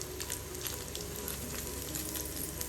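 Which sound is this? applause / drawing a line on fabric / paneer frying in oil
paneer frying in oil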